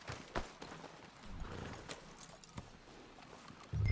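Horse hooves clip-clopping in Red Dead Redemption 2, a faint irregular patter of hoofbeats at a walking pace, with a soft thud near the end.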